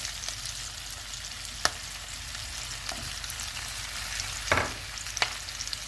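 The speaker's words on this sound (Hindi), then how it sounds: "और 1-2 मिनट तक इसको भी फ्राई करेंगे।" Fish pieces frying in a pan for chilli fish, a soft, even sizzle heard up close with a few isolated pops and a short burst of spattering near the end.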